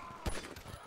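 A single sharp gunshot fired in Grand Theft Auto V during a back-alley shootout, one close crack followed by a brief rattling tail.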